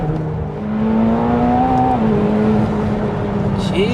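A McLaren 720S accelerating hard along a straight, bumpy road, its engine tone rising steadily, then dropping briefly on a gear change before climbing again, loud and close from inside the car.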